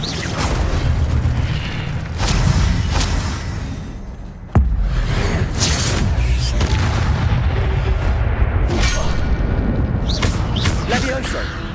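The Incendio fire spell in Hogwarts Legacy is cast repeatedly, making loud whooshing bursts and booms with a sharp blast near the middle, while a voice calls out over the action.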